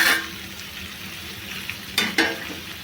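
Pieces of korameenu fish cook in a pan, a soft steady simmering sizzle close by, with a couple of sharp stirring scrapes toward the end.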